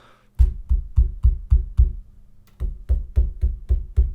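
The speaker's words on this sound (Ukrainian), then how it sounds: "Ось зараз постукаю по столу." Knuckles knock on a tabletop near a pair of desk microphones, one an Audio-Technica AT2020USB-X, in two bursts of about six evenly spaced, loud, close thuds separated by a brief pause.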